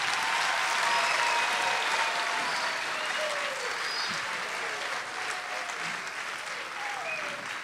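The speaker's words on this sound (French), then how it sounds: "Maintenant, applaudissez tout le monde." Applause from a concert audience at a Kimbanguiste music event in Brazzaville fills the whole stretch, dense and sustained, with some crowd noise mixed in.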